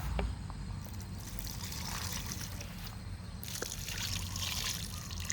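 Rice-washing water is poured steadily onto a potted tomato plant outdoors, a continuous close trickle and splash that runs throughout without speech.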